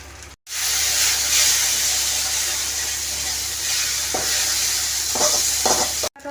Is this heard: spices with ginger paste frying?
yes